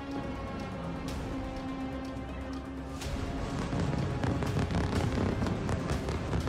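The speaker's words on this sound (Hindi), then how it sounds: "लेबनान की राजधानी बेरूत में चारों तरफ धमाकों की आवाज सुनाई दे रही है।" Repeated blasts and booms over Beirut during an Israeli attack on Lebanon, dense and continuous, with louder, closer bursts building up in the second half over a constant rumble.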